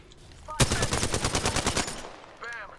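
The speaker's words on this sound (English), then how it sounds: "Somebody's shooting at me" Rapid automatic weapon fire in Apex Legends, a close, loud burst of about a dozen evenly spaced shots lasting roughly a second and a half, followed by quiet and a faint voice near the end.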